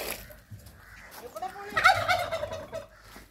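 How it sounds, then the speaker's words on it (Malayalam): Domestic geese honking and gabbling together near a spot where their cooked feed is about to be poured, the calls rising into a loud cluster mid-clip over a steady outdoor background. "വാത്തമാർക്കുള്ള തീറ്റ വേവിച്ച് വെച്ചിരിക്കുന്നു, അപ്പൊ ഇനി അത് ഒഴിച്ചു കൊടുക്കണം."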